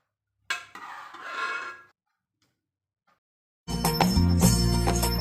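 Wheat kheer ladled into a bowl, with a metal spoon scraping and clinking against the pot, a pause, then louder ringing clatter of metal utensils and dishes, close up.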